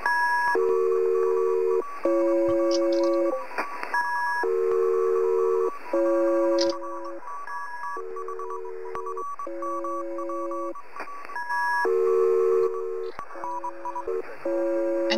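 Electronic radio tones in the video game Antenna, a steady sequence of clean synthetic beeps and sustained pitched tones in repeating bursts, loud and close with no voices.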